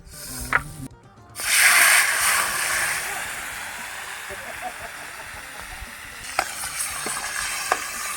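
Duck skin fries in hot oil for a crispy Thai duck larb, giving a steady, loud, close sizzle with occasional pops and crackles while a voice talks over it.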